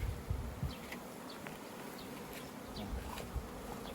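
Honeybees hum in a constant, busy drone around the hive, with occasional soft clicks and knocks nearby.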